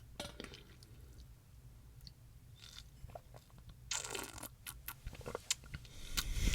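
Water in a container is handled close to the microphone for ASMR, giving soft drips, sloshes and crackly squishes, with clusters of sharper splashy crackles near the end.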